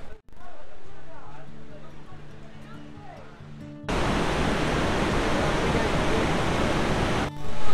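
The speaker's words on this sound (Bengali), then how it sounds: "উপরের ভিউ পয়েন্ট থেকে আমি দেখালাম দশম ফলস।" Dassam Falls, a waterfall near Ranchi, seen from an upper viewpoint: a steady, loud broadband roar of falling water that surges in level midway, with quieter, more distant-sounding water and faint tonal hum before it.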